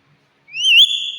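Pet parrot whistling, a single clear, loud, close whistle that slides upward and then holds steady for about a second, with silence before it.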